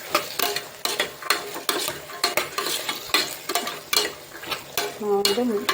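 Ground green chillies, rice and butter beans are stirred in a pan for vegetable pulao. A spoon scrapes in repeated quick strokes over a soft sizzle, with some metallic clinks near the end, close and without talk.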